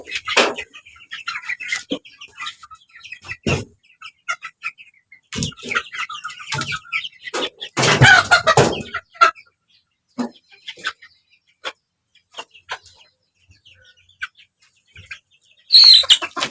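Fayoumi chickens being given RDV vaccine injections cluck and squawk in short, close bursts scattered through the clip, with one loud flurry of distressed calls near the middle, over handling noises and low speech.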